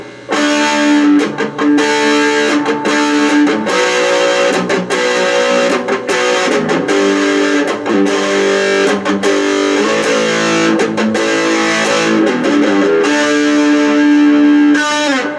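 Electric guitar rhythm playing runs through a Vox Satchurator distortion pedal, loud chugging overdriven chords struck in a steady pattern with brief choked gaps, played alone without speech.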